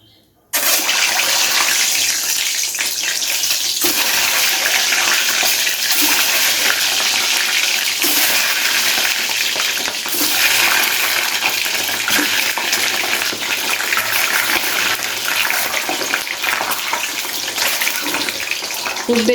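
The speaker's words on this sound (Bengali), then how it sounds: "ডিমগুলোকে হালকা করে ভেজে নেব" Eggs fry in well-heated oil for a dhaba-style egg masala, giving a loud, steady crackling sizzle that runs unbroken from just after the start to the end.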